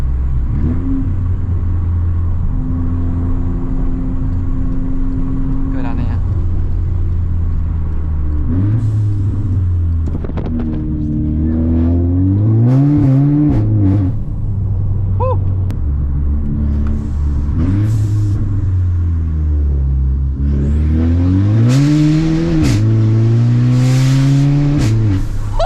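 A loud Volkswagen Scirocco on the move, its engine repeatedly revving up and easing off through the gears, with sharp exhaust pops and crackles bursting out between pulls, close and continuous with no talk.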